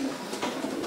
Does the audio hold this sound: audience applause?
no